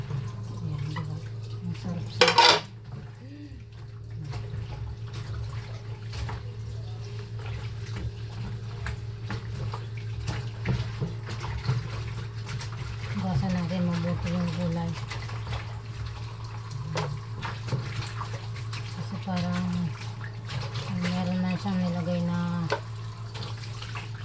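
Water running from a kitchen tap while vegetables are washed, a steady splashing stream with drips and clatter nearby as a person talks throughout.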